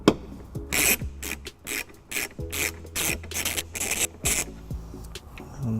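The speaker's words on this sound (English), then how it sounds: "we're going to take a 10mm socket and remove top bolt here and the bottom bolt there" Close, loud bursts of a 10mm socket ratchet clicking as bolts are backed out of a 2014 Dodge Grand Caravan taillight, repeated short runs of rapid ratcheting separated by brief pauses, with no talking.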